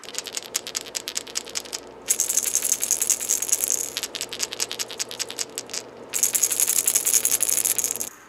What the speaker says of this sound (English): this rattle's got to be almost twice as loud as this rattle